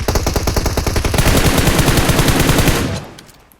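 Rapid automatic gunfire in the PUBG Mobile video game, a loud, dense burst of shots lasting about three seconds before it cuts off and fades.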